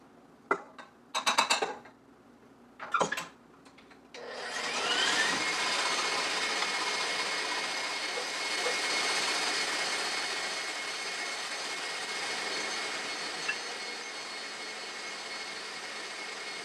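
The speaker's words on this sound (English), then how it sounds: "we're going to start by whipping the cream" An electric mixer whips cream in the kitchen, a loud, steady, high-pitched motor whir that starts after a few short knocks and clatters and then runs on without a break.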